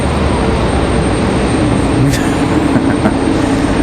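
A diverted United airliner at stormy Raleigh-Durham International Airport sends out a steady, loud engine roar, continuous and fairly close.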